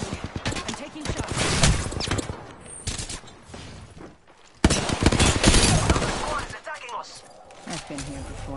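Heavy gunfire in the Apex Legends battle royale game: dense bursts of rapid automatic shots and single cracks, loud and close, with a short lull midway before another intense volley, game voices mixed in.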